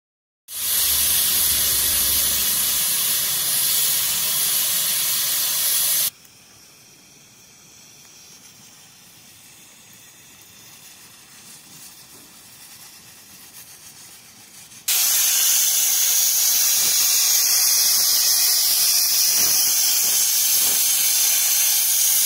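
A pressure cooker on a mud stove, cooking mutton with tomatoes, lets off a loud, sustained steam whistle and hiss, drops to a quieter simmering rush for several seconds, then blasts steam loudly again.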